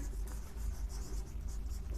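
A teacher writes on a board during a physics lesson on AC circuit resonance, faint scratchy strokes of writing repeating over a low room hum.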